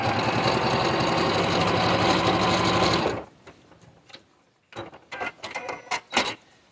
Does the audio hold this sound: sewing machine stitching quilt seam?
yes